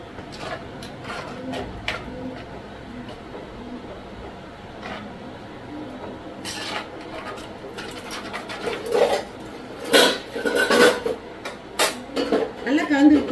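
A non-veg curry is stirred in a cooking pot, with scraping and clinking of a utensil against the metal that grows busier and louder toward the end, over quieter kitchen background and a voice.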